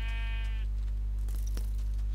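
A sheep from the Minecraft video game bleats once, a short quavering cry at the start, heard faintly over a constant low hum and some soft game clicks.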